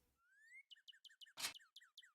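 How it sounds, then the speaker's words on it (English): Bright, rapid bird chirps and whistled notes in a quick synthetic-sounding sequence from the video game Nancy Drew: Trail of the Twister, with a brief burst of noise in the middle, clear and close. "oh, I love this sound, the bird sound."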